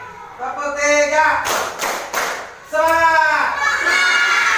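A classroom of pupils claps in short bursts to a counted rhythm during a teaching-practice lesson, while a teacher's voice leads the count between the claps.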